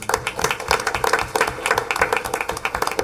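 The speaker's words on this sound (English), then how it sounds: "If we can give them a big round of applause." Audience at a school board meeting breaks into applause, dense rapid clapping that stays fairly steady and moderately loud for the whole stretch, with no voices over it.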